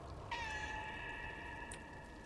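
A cat meows in the video game Stray, with one clear, drawn-out cry that holds steady for about a second and a half over a low ambient game backdrop, followed by a brief softer chirp.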